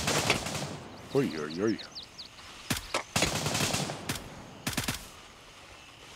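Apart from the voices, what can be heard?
gunfire in the video game Gray Zone Warfare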